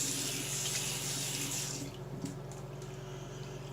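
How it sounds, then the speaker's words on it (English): Water from a bathroom tap runs as hands are rinsed after a shave, a steady near hiss that cuts off at about two seconds, leaving a low room hum with a few faint drips or movements. "Let's wash off the hands here."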